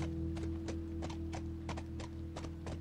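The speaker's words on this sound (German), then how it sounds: "Wir können auch schneller reiten." Horse hooves clip-clop at a steady riding pace in The Last of Us, a run of crisp, evenly spaced hoofbeats over a constant low background hum.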